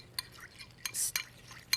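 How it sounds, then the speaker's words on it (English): Ground cinnamon is stirred into a raisin sauce in a kitchen, giving a short series of light scraping and clinking strokes, close by and fairly quiet, with no talking. "Mix this together"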